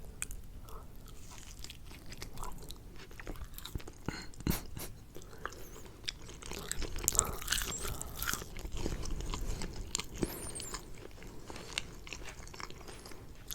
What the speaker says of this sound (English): Like my teeth just chomp straight through it.